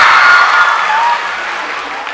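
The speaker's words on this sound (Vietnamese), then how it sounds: "Mọi người vỗ tay cho Dustin đi vô" A student audience at a university event claps loudly all at once, a dense burst of applause that fades slightly over two seconds.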